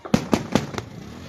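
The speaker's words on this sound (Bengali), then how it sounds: "আতশবাজি প্রদর্শন" A fireworks display at a festival celebration: four sharp explosive bangs in quick, fairly even succession, each dying into a short rumble, with no voices.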